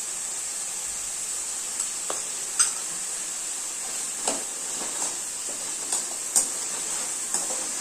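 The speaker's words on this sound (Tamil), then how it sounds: "இது நல்லா எண்ணெயிலே வதங்கணும்" Steady sizzle of vegetables frying in hot oil, with occasional sharp pops and clicks of stirring, no voices.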